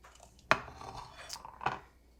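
A knife cuts mushrooms on a board in a kitchen, two sharp chops about a second apart with light scraping between them, close and quiet.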